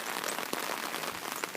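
Steady rain falls during spring flooding in southwest Douglas County, Missouri, a dense continuous patter on surfaces, moderately close and without talking.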